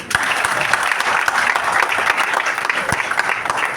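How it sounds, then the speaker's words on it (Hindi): A hall audience at a business meeting breaks into sustained applause, a dense, even roar of many hands clapping throughout with no break. "इनके लिए ताली बजाओ"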